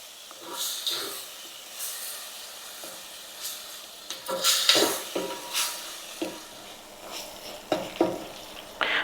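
Ground wet masala paste hisses and sizzles on a low flame in a pan for Kolhapuri chicken sukka, the frying broken by occasional scraping stirs.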